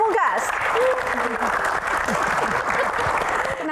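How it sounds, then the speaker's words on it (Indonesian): Studio audience applause on an Indonesian talk show, continuous clapping throughout with a host's voice talking over it and some whoops. "tepuk tangannya"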